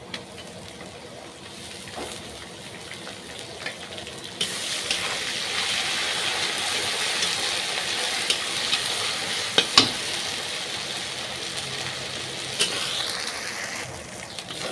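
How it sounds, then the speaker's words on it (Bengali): Browned onions with ginger-garlic paste fry in a pan for chicken curry, a steady sizzle that grows louder after a few seconds, punctuated by occasional scraping stirs and clinks, no voices. "এবার দিয়ে দেবো আদা রসুনের পেস্টটা"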